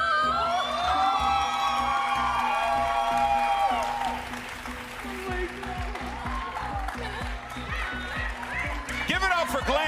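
An esports crowd at a VALORANT championship match cheers and applauds for player Glance, loud clapping and whoops fading under someone speaking over the arena noise.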